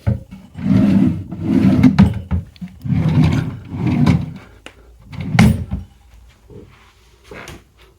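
Wooden drawers in a hotel room slide open and shut several times, producing rumbling, scraping strokes separated by short pauses and a few sharp knocks, heard up close with no talking.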